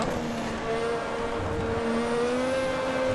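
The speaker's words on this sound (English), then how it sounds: "That very much sounds like 80s F1." A 1980s Formula One engine in a racing video game holds a steady, high-pitched whine, fairly faint and droning without pause.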